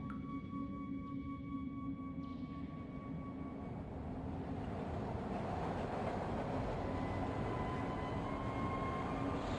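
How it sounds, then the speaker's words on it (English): A train rolls past in the video game Broken Sword 2, a steady, loud rumbling roar that swells and sustains throughout with a faint high whine above it, no talk. "There goes the train."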